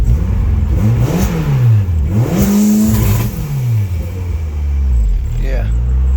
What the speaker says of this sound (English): you can hear she still runs pretty good on some pretty old E85